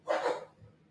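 A single dog's bark, one short sharp burst at close range, fading quickly into quiet room tone with no talking.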